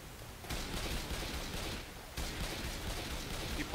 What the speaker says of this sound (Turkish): Bir patlama da gitti ulan.